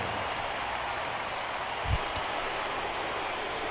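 Rain falling over a baseball stadium in MLB The Show 16, a steady even hiss of soft broadband patter with a single low thump partway through.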